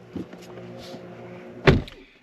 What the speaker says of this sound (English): there's also a emergency handle right here, and if we slowly pull on this, it will open up